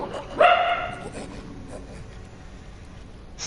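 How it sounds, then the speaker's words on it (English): A dog gives one sharp, loud bark followed by fainter yips and whimpers in the background, heard against a quiet room. "Is that a dog I hear?"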